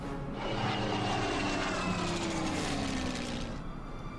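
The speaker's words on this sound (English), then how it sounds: "Bring the Stuka back." A Stuka dive bomber drones steadily overhead in the Order of Battle wartime strategy game, its engine roar loud and continuous with a slowly gliding pitch for about four seconds.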